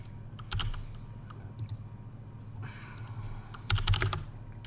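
Keystrokes on a computer keyboard while entering Cisco IOS commands to create VLANs, a quiet scattered patter of taps with a few brisker bursts, close by over a low steady hum.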